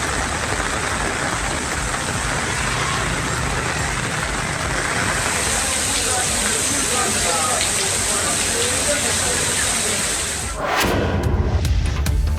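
Heavy rain pours down steadily around Nagapattinam, a dense hiss of drops filling the scene without letup for about ten seconds before an abrupt cut to a different sound.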